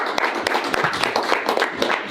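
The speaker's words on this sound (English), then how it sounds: "The Dobson Mustangs, please clap it up." Crowd applause at a school sports media day for the Dobson Mustangs team, a dense, lively clatter of many hands clapping, close and steady throughout with no gaps.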